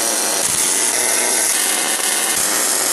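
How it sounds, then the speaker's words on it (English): Steady, loud MIG welder buzz and crackle running continuously for the whole stretch, with no breaks, while welding metal parts for a cart used to jump-start cars. "Fire up the welder. I'm going to use the MIG welder."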